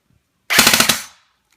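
An Apex R5 M10 gun firing a short full-auto burst of about six rapid, loud, close shots that stop abruptly and leave a brief decay into silence.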